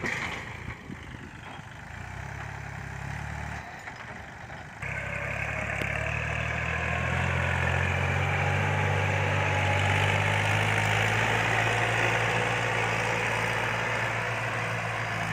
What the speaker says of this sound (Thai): ตัวนี้เป็นเครื่องยนต์3สูบ นะครับไดเด็กอินเจคชั่นนะ ครับ